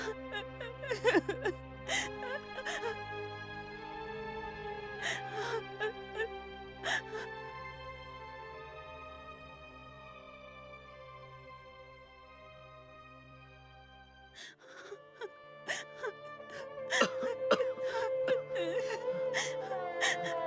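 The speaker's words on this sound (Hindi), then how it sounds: "तुम रो रही हो? प्लीज रो मत।" A woman cries in a Hindi-dubbed Tamil action film, whimpering and sobbing in broken, uneven bursts over a steady tonal background, with a quieter stretch before the crying swells again.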